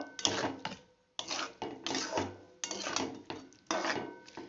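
Bathua greens, cooked down with a little added water, being stirred in a pan, giving repeated scraping and clattering strokes of a spoon against the metal in bursts, close and fairly loud with no talking.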